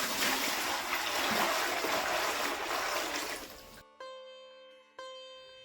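Water running through a freshly dug channel in a garden, a close rushing trickle that fades out partway, after which sharp musical tones take over.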